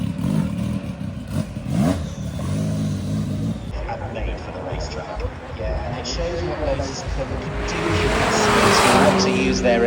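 A late-1970s Volvo race car heading out onto the track at the Goodwood Festival of Speed, its engine revving and accelerating with tyre noise, building louder toward the end as it passes, under commentators' talk.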